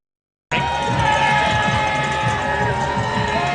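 A homecoming football crowd cheers in the stands at the UMass versus Bowling Green game, a dense, loud, continuous roar that starts abruptly and holds steady.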